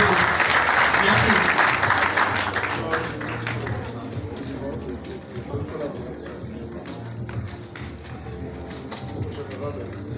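Warm applause at a FIDAC awards ceremony honours the gendarmerie high command, loudest at the start and thinning gradually, with a low hum and a voice speaking over the tail.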